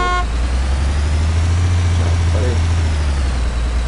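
A vehicle engine running in the Arma 2 DayZ mod, a loud, steady low rumble with a constant drone throughout, and a voice speaking faintly under it.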